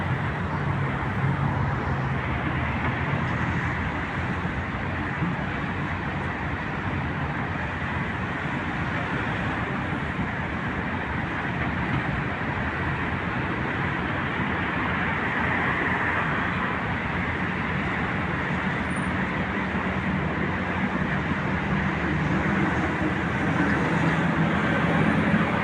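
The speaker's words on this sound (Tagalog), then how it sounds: "Maingay dito ang mga sasakyan." Steady, continuous roar of traffic from passing vehicles on a busy street near a building under construction, a broad rumbling wash with no breaks, moderately loud throughout.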